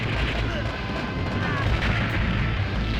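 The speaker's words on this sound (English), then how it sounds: "Now it says bomb up, so I should be able to throw a bomb." Bomb blast in a NeoGeo arcade game, a dense booming roar of game explosions and gunfire that fills the whole stretch loudly and steadily, with no clear gap.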